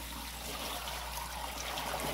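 Water runs from a kitchen tap in a steady, even rush, a close and continuous hiss with no pauses and no voices over it.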